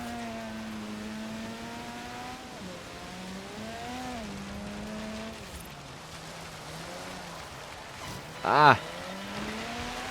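An 1980s rear-wheel-drive car's engine drones and shifts pitch while sliding on snow in Forza Horizon 3, with a short sharp impact near the end; a person talks briefly.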